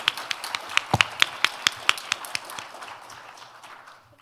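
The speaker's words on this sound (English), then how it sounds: "why don't we give the round of big applause to 4 panelists for the perfect answers" Audience applause for four panelists at the ASEAN Connectivity Forum: distinct, sparse claps from a modest crowd, fairly close, in an uneven rhythm that thins out and fades toward the end.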